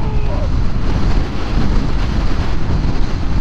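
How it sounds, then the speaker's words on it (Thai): Strong wind buffets the microphone outdoors on a hazy, dusty day, making a loud, continuous low roar that surges and dips slightly throughout, with no talking. "ลมมันตีแรงมากครับตอนนี"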